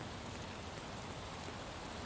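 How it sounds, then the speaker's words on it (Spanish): In the Shadows of Doubt video game, rain falls as a dense, uniform hiss that stays constant and close for the whole short stretch, with no voices. "está lloviendo otra vez"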